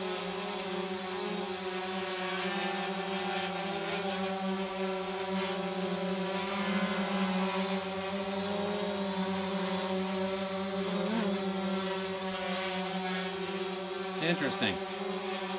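A drone hovers steadily in place during a no-GPS failsafe test, giving off a continuous, even buzzing whine close by, with a brief spoken remark over it.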